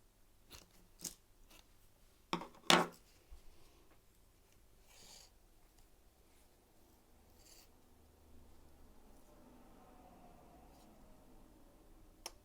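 Scissors snip through fabric lining while beads are stitched in place, a few quiet crisp cuts clustered early on, then soft rubbing and handling of the material close up.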